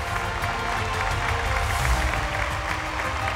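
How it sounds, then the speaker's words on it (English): Sustained applause from an audience at the Miss Sri Lanka Earth 2018 grand finale pageant, steady and dense throughout, with crowd noise and low rumble mixed in. "Keep that applause going, ladies and gentlemen"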